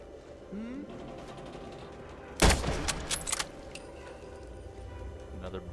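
A single loud gunshot goes off in Fallout London, followed by a short clatter of mechanical rattles and clicks, all under a quiet game ambience with someone talking at times.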